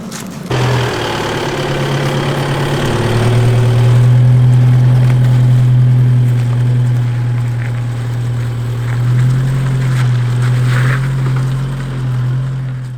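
A 4x4 engine labours loudly up close as the vehicle climbs a sandstone trail between Baal Bone Gap and Ben Bullen in the Blue Mountains near Lithgow, a steady low drone with slight surges, no talking.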